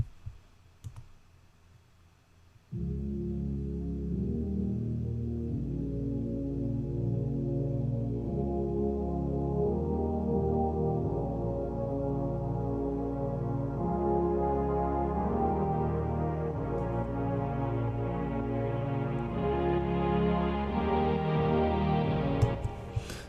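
A brassy synthesized orchestral passage from Nexus's Hollywood Brass preset plays after a short quiet start, with sustained stacked chords shifting steadily and brightening toward the end.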